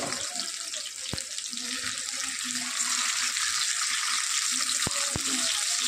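Chopped garlic, green chillies, ginger and capsicum fry in a pan, giving a steady hiss of sizzling with a few sharp clicks of a utensil against the pan.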